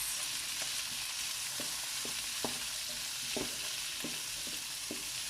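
Chilli paneer stirred in a hot pan, a spoon scraping in repeated irregular strokes over a steady, fairly loud sizzle of frying.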